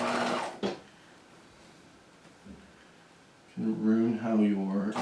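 A sewing machine stitching along a jacket's shoulder seam gives a low, steady mechanical whir through the middle, after a short burst at the start, with a voice talking over the end.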